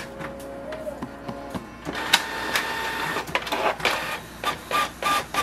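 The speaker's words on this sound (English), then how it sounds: "click it once and wait for the printer to print" Canon Pixma MG3640S inkjet printer making a copy, a steady mechanical whir with clicks and paper-feed rattles, then a run of rhythmic bursts as the print head sweeps back and forth, fairly close.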